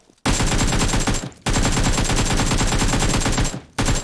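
Rapid automatic-rifle gunfire in the PUBG Mobile video game on the Livik map, in three long sustained bursts separated by brief pauses, loud and close.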